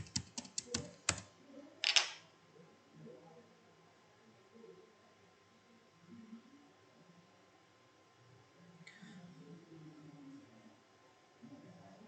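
Quick clusters of keystrokes clatter on a computer keyboard as a username and password are entered, followed by a single later tap. Faint room noise and low murmurs sit underneath.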